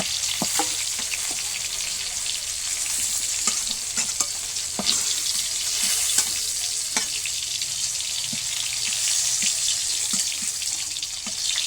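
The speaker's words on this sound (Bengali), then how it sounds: "এবারে এই তেলে পটলটা ভেজে নেব।" Pointed gourd (potol) pieces fry lightly in hot oil in a pan, a steady close sizzle running throughout with scattered sharp pops and occasional stirring scrapes, no voices.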